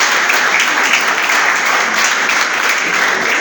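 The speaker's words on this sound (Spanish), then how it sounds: "Dale un aplauso a Jesús." Dense, steady applause from a church congregation, loud and continuous throughout, like a hall full of people clapping together.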